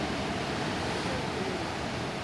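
Big ocean waves break on a beach as a loud, steady roar of surf that fills the whole stretch without pause.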